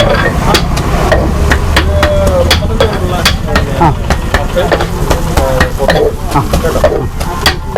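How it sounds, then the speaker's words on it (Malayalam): Kothu parotta chopped and fried with masala and egg on a griddle at a village-style roadside thattukada in Kerala: rapid, loud, rhythmic metallic clanging of blades over a steady sizzling hiss. "ഇവനെ ഒന്ന് മിക്സ് ചെയ്ത് മസാലയും മുട്ടയും കൂടെ ഒന്ന് ഫ്രൈ ചെയ്ത് വരുമ്പോഴത്തേക്ക് കൊത്തു പൊറോട്ട റെഡി"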